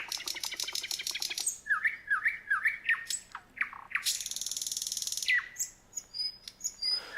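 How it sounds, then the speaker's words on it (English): Nightingale song: rapid repeated trills, then short separate chirping and squawking phrases and fast whistled notes, loud and close with no talk. "a nightingale, which is now coming in right there"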